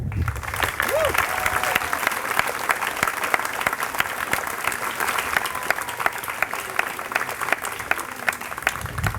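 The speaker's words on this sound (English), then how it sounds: "We would like you to applaud for each of our students today." An audience at a middle school closing ceremony claps for a student, a steady, sustained round of many hands that runs the whole length at an even, moderate loudness.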